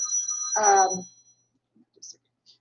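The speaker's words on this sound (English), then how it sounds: "let me just shut my phone up" A mobile phone ringtone sounds during a lecture, a bright melodic chime lasting about a second before cutting off, followed by faint scattered noises.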